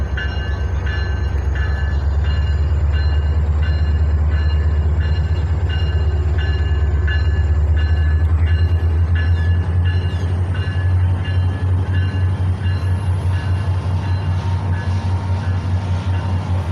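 A northbound train passing close by with a loud, sustained rumble and steady rail clatter, continuous throughout with no talk.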